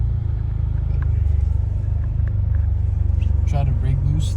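Ford Explorer ST with a Borla Atak exhaust and built EcoBoost motor pulls hard from inside the cabin, a deep steady droning rumble holding loud throughout with a brief rising note near the end.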